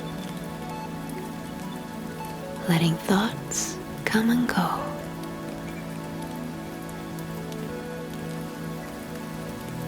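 Rain patters evenly and steadily on a surface, a continuous soft wash of drops, while a gentle voice speaks briefly over it in the middle.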